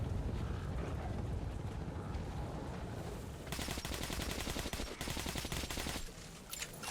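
Gunfire in a combat scene in the video game Metro Exodus, with loud, dense bursts of rapid shots that build into a sustained fusillade after a rumbling start, no talk.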